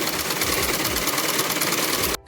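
A sewing machine runs a line of double stitching on a salwar. The motor whirs loudly and continuously up close in a fast, even rhythm, then cuts off sharply just before the end.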